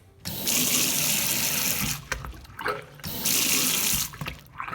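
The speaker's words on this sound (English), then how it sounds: "We'll turn on the water and check for leaks." Water streams from an automatic infrared-sensor sink faucet in two loud, steady bursts, each cutting off briefly before the flow resumes, with a short quiet gap of drips and handling between them.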